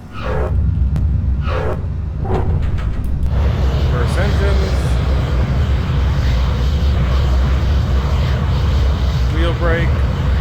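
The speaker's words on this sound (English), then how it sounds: "Reverse engines." Eurofighter Typhoon jet engines roaring in reverse thrust on landing in Microsoft Flight Simulator, a steady loud broadband rumble throughout with someone talking over it.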